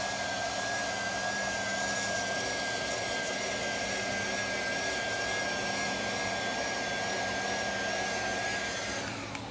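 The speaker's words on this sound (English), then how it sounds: "It has a vacuum component, so it's sucking up all the glue as you're running it through the corner." A small handheld glue vacuum runs steadily at close range with a constant high whine and airy suction roar while it sucks up wood glue squeeze-out along a corner joint, then winds down at the end.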